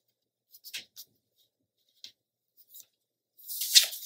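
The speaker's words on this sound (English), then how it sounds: "Put it in my trimmer here and see what it looks like." A paper trimmer slices paper for a Graphic 45 Warm Wishes card cover: a brief, crisp, hissing cut near the end, after a few faint taps and rustles in near silence.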